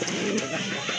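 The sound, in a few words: pigeon cooing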